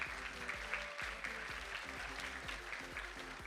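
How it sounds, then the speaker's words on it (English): Steady round of applause from the audience at a university fashion show, even and continuous clapping, fairly faint, with a soft voice underneath. "round of applause for sure."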